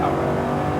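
Lamborghini Huracan engine under acceleration on a race track, a loud continuous close-up roar held at high revs throughout a short burst with no break.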